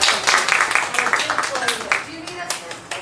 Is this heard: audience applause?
yes